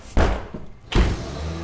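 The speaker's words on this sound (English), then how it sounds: "let's go ahead and try to kick down this door" A door being kicked, two heavy booming thuds about a second apart, loud and close, the second followed by a lingering rumble.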